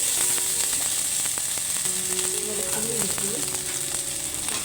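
Garlic and ginger frying in hot coconut oil give off a steady, close sizzle with bright hiss, broken by a few soft scraping stir sounds midway, while a voice talks faintly underneath.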